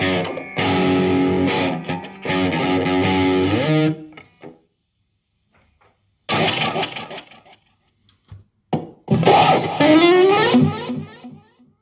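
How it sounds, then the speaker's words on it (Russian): An electric guitar plays through the distortion channel of an Aria AG-35RX combo amplifier, with crunchy chords and sustained notes in loud bursts separated by near-silent pauses and a few short picked sounds. "то есть канал дисторшн."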